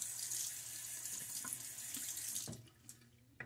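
Bathroom tap runs steadily into a sink for a rinse after a shave, a close, even hiss of flowing water that thins out toward the end, with a couple of small knocks.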